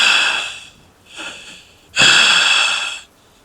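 Heavy, raspy breathing as a sound effect: three close, loud breaths, a long one, a short weaker one, then a long forceful one, separated by brief silences.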